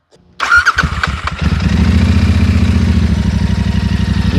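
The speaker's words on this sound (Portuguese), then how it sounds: "Esse motor com escape esportivo agrada bastante os ouvidos" A Royal Enfield Continental GT motorcycle with a sport exhaust starts up: a brief starter whir, then the engine catches and settles into a loud, steady, throbbing idle.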